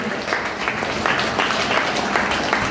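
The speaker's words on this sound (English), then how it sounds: "Give a big clap for her." Students at a public speaking and empowerment workshop clap for a participant, a brief burst of steady group applause with distinct hand claps audible throughout.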